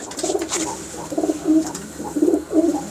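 Pigeons coo in repeated low, throaty phrases, close by and fairly steady, one of them a young female from a prized breeding line, with faint background noise and no talking.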